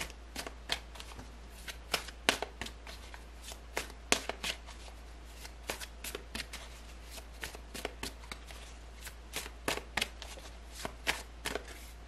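Tarot cards being shuffled by hand up close, a steady run of crisp riffling snaps and soft card slaps repeating for several seconds, quiet and without talk.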